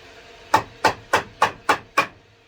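A 2x4 board is tapped into place on a workbench, six sharp, evenly spaced knocks, close and clear against a quiet shop.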